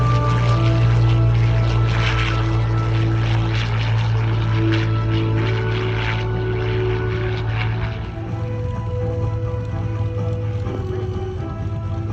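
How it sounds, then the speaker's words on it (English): A Hawker Hurricane Mark 12 fighter drones overhead at an air show, its loud, steady piston-propeller roar holding strong before easing slightly as it passes, with no voices. "displaying the beautiful Hawker Hurricane Mark 12"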